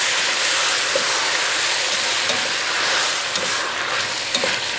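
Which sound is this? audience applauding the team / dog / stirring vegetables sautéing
stirring vegetables sautéing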